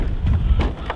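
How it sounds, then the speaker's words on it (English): A CEN Krazy Kaos Reeper RC truck slams down hard on its front end, a loud low thud with a brief crunchy rattle following, near and sharp. "That was a hard hit on the front end."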